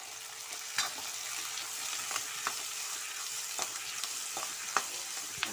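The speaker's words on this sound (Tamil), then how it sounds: "வெங்காயம் நல்லா வதங்கிட்டு" Onions sautéing in a frying pan for poori and channa masala, giving a steady close sizzle with scattered sharp crackles and pops from stirring, and no talking.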